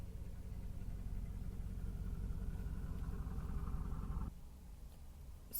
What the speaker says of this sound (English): people got loud ass cars